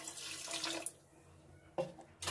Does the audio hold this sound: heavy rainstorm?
no